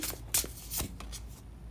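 Tarot cards are shuffled in a few quick, close riffles and slaps, brief and crisp against a faint low background.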